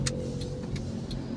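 A car turns in at the main gate of a housing society on Raiwind Road, Lahore, its engine running steadily up close with a few light ticks over the drone.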